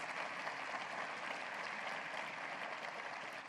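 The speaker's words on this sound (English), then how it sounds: "Please give him another round of applause. Hearty round of applause." Sustained audience applause at a university State of the University address, an even wash of many hands clapping at moderate volume for several seconds.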